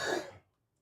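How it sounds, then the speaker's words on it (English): A single short, close cough, breathy and brief, fading quickly into silence. "Hold on, I got a cough."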